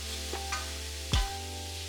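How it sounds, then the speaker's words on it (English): Shimeji mushrooms, spinach, onions and garlic sauté together in a pan, giving a steady low sizzle with a few soft stirring scrapes and one sharper knock near the middle. "I'm quickly sauteing a few handfuls of each, along with some onions and garlic"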